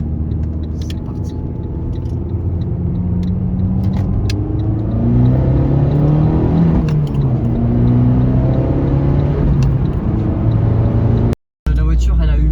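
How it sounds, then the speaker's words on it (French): An Abarth car engine drones and revs during a road test, its pitch rising and falling steadily from inside the cabin, with people talking over it and a sudden brief cut near the end. "On se retrouve pour le petit essai routier dans la jeune Abarth."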